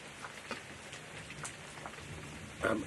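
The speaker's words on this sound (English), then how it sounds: "It seems that rainy season has come very early" Steady rain falls outdoors at a South African game reserve, a continuous fine patter with scattered drop impacts and a brief louder burst near the end.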